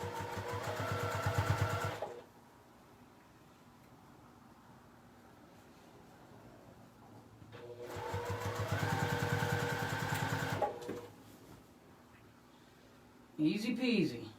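A sewing machine stitches across a diaper bag strap in two steady motor-driven bursts, separated by a quiet pause, with a brief sharper sound at the very end.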